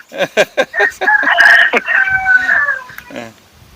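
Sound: chicken crowing

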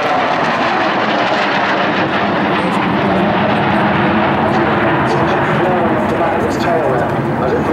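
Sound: Royal Swedish Air Force historic aircraft flying past

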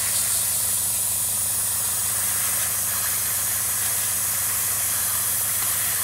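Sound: airbrush spraying paint on Tamiya 1/48 Spitfire model

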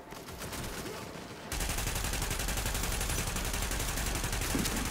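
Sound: gunfire in the video game The Division

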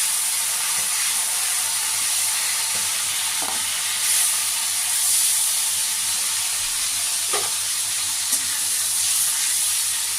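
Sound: tengra fish frying in oil

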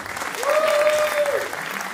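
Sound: audience applause for bodybuilder Dorel Toma

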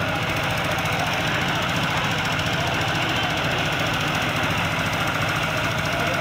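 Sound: tractor trolley loaded with sand reversing

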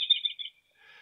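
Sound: robins chirping outdoors

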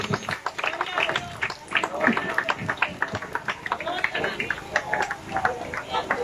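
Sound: congregation applauding in church

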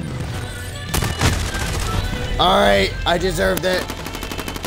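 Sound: gunfire shooting the player in Call of Duty Warzone (video game)

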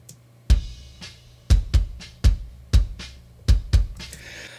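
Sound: bass drum boosted with Pultec EQ

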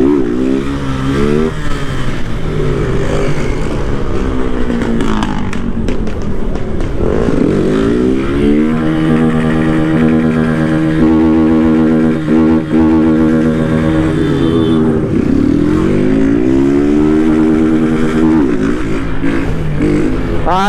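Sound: motorcycle engine revving

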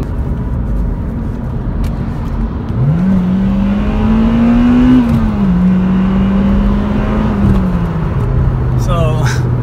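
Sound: Honda Civic Type R engine revving, VTEC

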